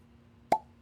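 A natural cork pops out of a bourbon bottle: a single sharp, close pop with a brief hollow ring that fades quickly against a quiet background.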